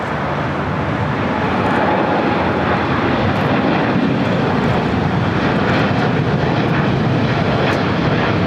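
A Delta Airbus A350-900 arriving at LAX from Atlanta makes a loud, steady, broadband roar that holds throughout, with no voices over it.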